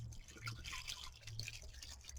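White vinegar and water mixture, half and half from a gallon jug, poured onto fabric in a studio, giving a steady close liquid splashing and dribbling that runs continuously at a moderate level.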